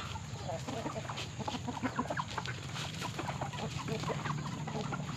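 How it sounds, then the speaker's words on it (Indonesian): Chickens cluck continuously in a busy, close cluster of short calls over a steady background hum. "Ayam piaraan"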